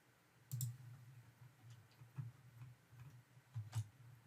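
A computer mouse clicks softly a few times at irregular intervals, each click short and faint against a quiet background.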